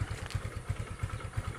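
A Modenas GT128 motorcycle engine runs close by with a quick, even putter of regular exhaust pulses and a light mechanical clatter over it.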